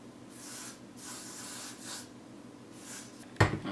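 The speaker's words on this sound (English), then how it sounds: "Okay, this is the got to be free spray." Got2b hair spray hisses from a can in several long, soft bursts onto a lace front wig, ending with a brief louder handling noise.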